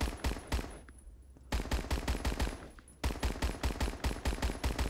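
Rapid bursts of PPSH-41 submachine gun fire laying down suppressing fire in the Roblox shooter Phantom Forces, loud and close, three long strings of dense evenly spaced shots separated by brief gaps.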